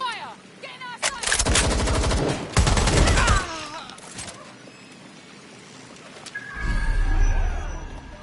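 Gunfire erupts in Watch Dogs Legion, bursts of rapid automatic shots in two loud clusters separated by a quieter lull, then a final rumbling blast, with faint voices in the background.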